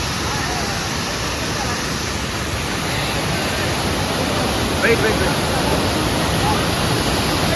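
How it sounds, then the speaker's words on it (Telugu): Kottapalli waterfall near Paderu roars as a steady, loud, broadband wash of falling water close by, with a brief voice calling out partway through. "ఫైనల్గా మేమైతే కొత్తపల్లి వాటర్ ఫాల్స్ కిందకు వచ్చాము"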